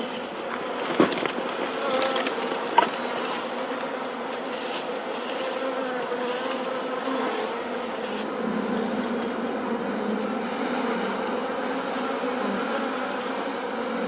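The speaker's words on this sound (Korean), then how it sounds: "벌꿀은 집을 잃은 꿀벌들을 벌통으로 이사시킵니다." Swarm of honeybees buzzing densely around a hive in the Jirisan mountains, a continuous close hum of many wings with a few louder passes near the start.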